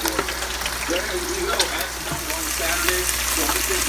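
Hot oil sizzles and crackles steadily as french fries cook, with occasional light clinks of a utensil stirring nearby.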